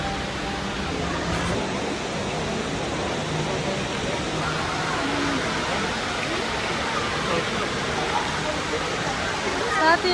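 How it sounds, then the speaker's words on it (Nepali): A water fountain inside a Dubai mall gives a steady, even rush of splashing water that holds at one level throughout, with a faint hum of the indoor space behind it. "पानीको झर्ना"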